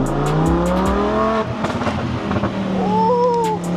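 A Lamborghini fitted with an Armytrix exhaust revs loudly and close, heard through a lowered window, with a deep rumble that rises and falls before a sharp upward rev near the end.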